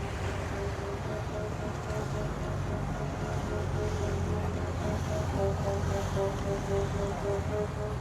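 Motor boat out at sea during a religious procession off Brolo, Sicily, with a steady engine drone and wind buffeting the microphone throughout.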